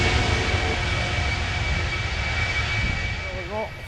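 Engines of the Zero G parabolic-flight aircraft roar steadily at the end of a weightless flight, a loud continuous cabin drone that eases slightly toward the end, with a voice briefly heard near the close.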